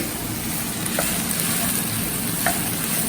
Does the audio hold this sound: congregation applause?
no